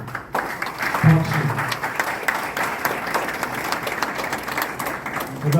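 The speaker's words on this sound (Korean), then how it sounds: "박수." An audience at a national conference in a Seoul hall claps together in steady, sustained applause, with a voice briefly audible through it.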